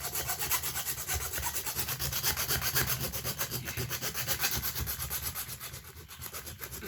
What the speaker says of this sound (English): So I'm going to be sawing it.